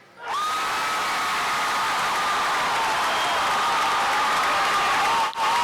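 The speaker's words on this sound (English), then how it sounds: "The crowd erupted." A high school basketball crowd erupts into loud, sustained cheering and applause after a corner three-pointer drops, with whoops and shouts rising over a dense roar that holds steady for several seconds before briefly dipping near the end.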